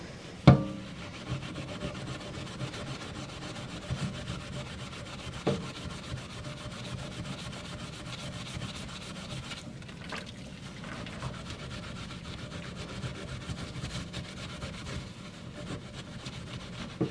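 A Brillo pad scrubs and polishes the metal internals of a paintball marker near the front bolt area, producing a steady close rubbing rasp that continues throughout with a few sharper knocks.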